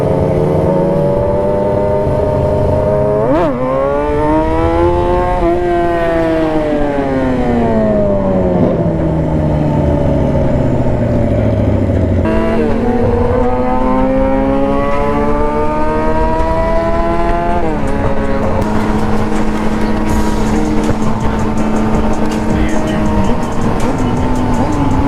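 Yamaha R6 motorcycles on an evening group ride accelerating hard through the gears, revs climbing and dropping repeatedly in loud rising sweeps, close and continuous with wind noise.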